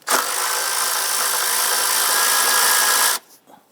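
A power tool whirs loudly and continuously for about three seconds while loosening and removing a 10mm nut on a Jeep Grand Cherokee 3.6L engine near the oil filter housing, then cuts off abruptly into a few faint clinks.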